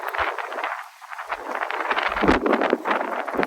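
Gusty outdoor wind buffets a microphone beside a 1980 GMC Sierra K2500 4x4 pickup, a rough, fluctuating rumble and hiss rising and falling across a few seconds, with no clear voices.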